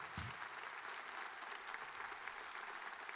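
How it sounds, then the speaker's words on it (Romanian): A concert hall audience at a symphonic evening in Sala Palatului gives steady, dense applause, a continuous crowd-wide clapping wash heard from within the hall, fairly faint overall. "Daniel Ginga, vă rugăm aplauze"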